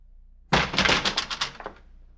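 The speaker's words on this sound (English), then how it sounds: "Door's open. Come on in," A door opening in a radio drama, a sudden wooden thunk and clatter of the latch and hinges, close and fairly loud, lasting just over a second.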